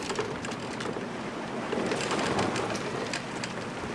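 Rain falls in The Journeyman Project 3 video game, a soft, steady hiss of drops on surfaces that stays fairly quiet and even throughout, with no voices.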